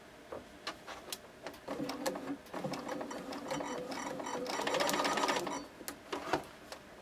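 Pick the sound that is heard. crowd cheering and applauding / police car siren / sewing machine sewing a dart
sewing machine sewing a dart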